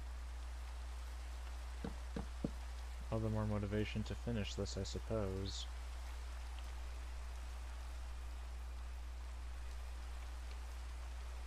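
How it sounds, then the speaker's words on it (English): Steady rain falling in the video game Minecraft, a constant soft hiss running through the whole scene, with someone talking briefly over it. "Of course it's raining."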